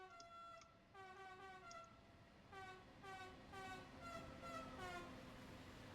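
An insanely long train in Train Sim World 5, hauled by a Vectron locomotive on the Tharandt ramp between Chemnitz and Dresden, sounds a series of quiet, tonal horn blasts in rapid succession over a faint rolling rumble.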